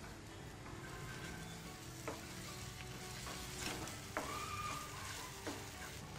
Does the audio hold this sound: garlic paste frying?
yes